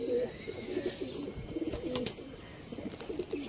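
Female tippler pigeon cooing at an outdoor pigeon sale on Howrah Maidan: a run of soft, low, rolling coos repeating throughout, close and moderately loud, with faint crowd murmur underneath.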